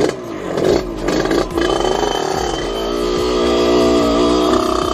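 A Derbi Senda 50cc dirt motorcycle engine is started after a muddy enduro ride, sputtering and then revving up into a loud, steady, buzzing two-stroke drone.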